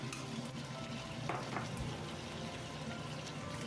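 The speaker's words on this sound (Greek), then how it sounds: "και τώρα, μέσα στο τηγάνι αυτό, θα ρίξω ψιλοκομμένο κρεμμύδι" Chopped onion sizzles steadily in a frying pan that just held chicken fillets, a dense continuous hiss at moderate level with a couple of brief stirring scrapes, no voices.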